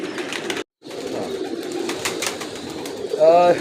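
A pigeon of a prized Shaheen breed coos close by, the low throaty call emerging near the end amid other bird sounds and someone speaking.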